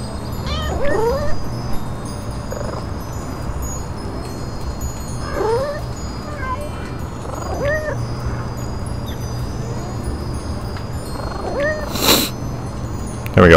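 A cat meows several times, short high calls spaced across the scene in the video game Little Kitty Big City, heard over a steady low background hum.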